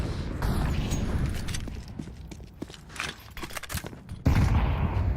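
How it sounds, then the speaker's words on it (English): Pistol gunfire in Counter-Strike during a professional tournament match, with rapid bursts of sharp shots and cracks spread across the clip over a dense game and arena background. "Here goes Elige top middle trying to farm versus pistols."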